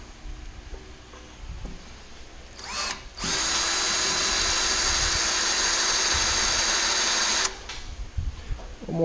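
A power drill boring into metal parts of an antique farm wagon being restored, starting in short bursts and then running as a loud, steady whine for about four seconds before stopping, with light background noise around it.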